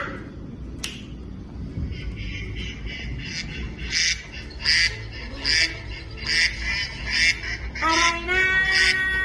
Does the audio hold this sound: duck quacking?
yes